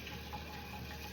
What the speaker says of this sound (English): Okay, I need to wash my hands.